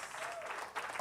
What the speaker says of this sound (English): Can we give Mr. Warren Cooper another round of applause?